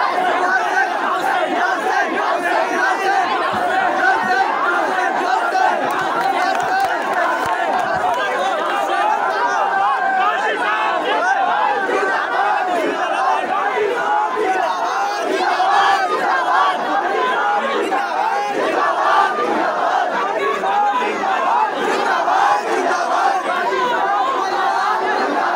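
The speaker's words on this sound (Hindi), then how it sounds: "काजी साहब जिंदाबाद के नारे लगने लगते हैं" A large crowd in Ujjain chants the slogan 'Qazi Sahab Zindabad' in unison, a dense, steady roar of many voices that holds at a loud, even level throughout.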